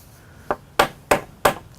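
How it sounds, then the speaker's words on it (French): Four sharp hammer taps, a single tap followed by three evenly spaced strikes, close and crisp, with no talk. "Un petit coup de marteau"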